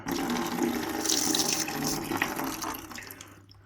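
Old coolant drains from a Yamaha WR125R motorcycle into a catch container, making a steady, close splashing pour that thins out and stops at the end.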